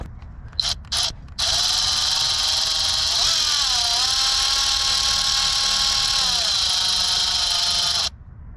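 A Milwaukee power tool removes a 10 mm bolt on a 2019 Chevy Silverado during a cold air intake install: a few short bursts, then a loud, steady whirring run of about seven seconds with a brief pitch dip partway through.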